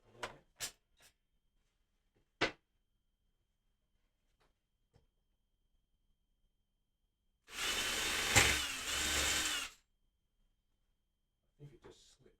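Power drill boring a small pilot hole in wood while building a Telecaster guitar, a single whirring burst of about two seconds amid quiet workshop stretches with a few knocks and brief handling sounds.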